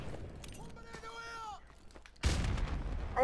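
In a shooter video game, voices talk quietly before a grenade goes off in a sudden loud, sharp blast close by that rumbles on for a moment afterward.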